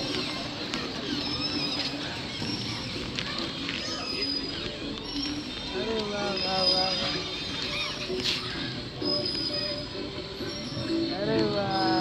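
Train rolling on rails with wheel squeal and shifting tonal screeches across a busy, continuous rumble, with voices talking over it and birds faintly in the background.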